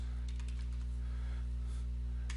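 Computer keyboard typing as a line of program code is entered, a quick run of light key taps over a steady low electrical hum, close and moderately quiet, with no talking.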